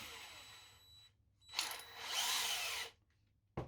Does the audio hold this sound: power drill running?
yes